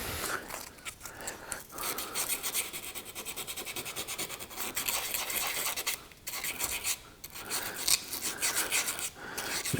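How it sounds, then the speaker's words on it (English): A rifle scope ring scuffed by hand, heard as close, continuous rasping and scratching strokes in an uneven rhythm with a few short pauses, no talk. "be careful when you're scuffing this up that you stay in the ring itself"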